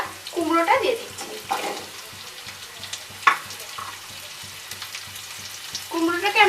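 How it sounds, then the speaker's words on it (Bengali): Pumpkin fries over a medium flame in a pan with chopped garlic, giving a soft sizzle under repeated stirring scrapes and a single sharp clatter midway, with a voice briefly audible at the start and end. "কুমড়োটাকে আমরা মিডিয়াম ফ্লেমে 2 মিনিট মতন ফ্রাই করে নেব।"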